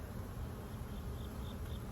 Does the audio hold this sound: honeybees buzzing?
yes